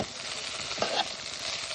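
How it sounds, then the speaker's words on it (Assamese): A soft, steady sizzle of flattened rice frying in ghee in a pan, with a brief scrape of stirring partway through. "চিৰাখিনি ধুনীয়াকৈ ভাজি ল'ম"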